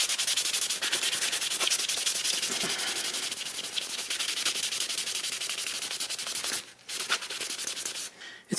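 Burned wood being wiped by hand to lift an ink and rubbing-alcohol stain, giving steady, close, continuous rubbing with a brief pause and a short break near the end.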